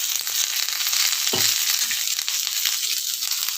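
Hot oil frying in a pan makes a steady broadband sizzle throughout, with one brief low thump midway and no voices.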